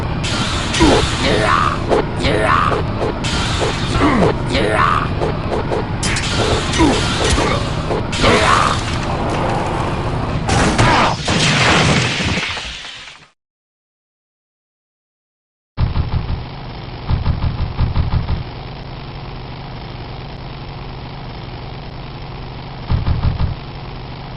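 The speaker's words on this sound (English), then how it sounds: "There's the sound of you driving over a rough road." A vehicle rolls over a rough road with a steady, rumbling engine drone and irregular knocks and rattles, then cuts to near silence before a duller, lower engine hum resumes with occasional thumps.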